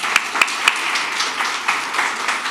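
An audience at a medical society presentation claps, with a few sharp distinct claps at the start giving way to softer, scattered applause that thins out over the short stretch.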